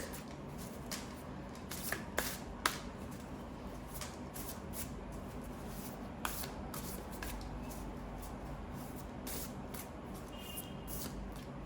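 A deck of oracle cards being shuffled over and over, a soft papery riffling with occasional sharper snaps, close by and steady throughout, with no talking.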